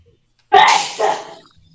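A single loud sneeze bursts out close to the microphone in a quiet room, followed by a short fading tail and a brief faint noise at the end.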